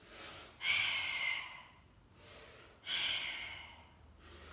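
Two slow, audible breath cycles during a Pilates mat exercise, each a breathy exhale burst followed by a quieter inhale, close and fairly soft with no talking.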